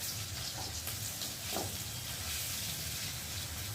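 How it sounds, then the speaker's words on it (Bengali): Garlic paste and onions fry in a pan for a fish curry with potatoes, giving a continuous close sizzle and hiss with faint stirring. "একটু রসুনটা ভাজতে হবে"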